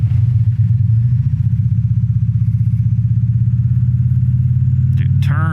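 The engine of a 2016 Victory Cross Country motorcycle thrums steadily and close with a deep, pulsing rumble at half throttle, and a brief voice or whistle-like sound cuts in near the end.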